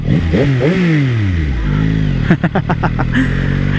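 A Yamaha XSR900 with a still-quiet exhaust revs in rising, falling sweeps, then fires a quick run of sharp, close exhaust blips, loud and with no voices.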